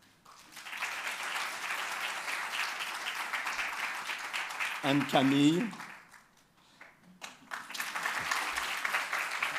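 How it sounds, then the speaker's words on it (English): Audience applause for a biotech team at a conference session, a steady round of clapping that runs under a speaker naming people, dips midway and then swells again. "Please, a round of applause."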